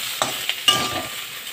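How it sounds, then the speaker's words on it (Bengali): Eggplant fries in a pan with a low, continuous sizzle while a spoon stirs it, giving three distinct scraping knocks over the hiss, close and without talk. "এবার আমি বেগুন দিয়ে দিলাম, বেগুন দিয়ে বেগুনটা আমি একটু নেড়ে চেড়ে নিচ্ছি।"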